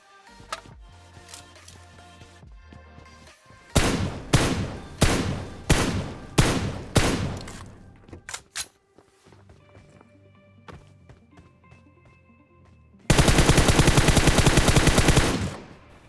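Kar98 rifle and other gunfire in PUBG Mobile, a battle royale shooter: a run of five or six loud, evenly spaced shots midway, then a dense, sustained burst of rapid fire near the end, with quieter game ambience between.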